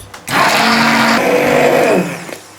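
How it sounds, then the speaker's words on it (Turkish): A blender whirs loudly for about two seconds mixing lemon ice cream, a steady high motor roar that winds down at the end, with no talking. "Şimdi limonlu dondurmamızı 5 dakika blenderdan geçiriyoruz."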